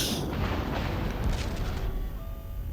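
Naval artillery salvos in the World of Warships video game, a Georgia-class battleship trading fire with an Iowa, heard as a dense, loud rolling boom with sharp bursts over a low rumble and no talking.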